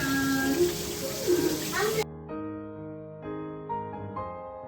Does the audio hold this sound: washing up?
yes